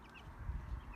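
Chickens cluck softly among older chicks at a bird-keeping setup, with low, faint, irregular calls and no voices.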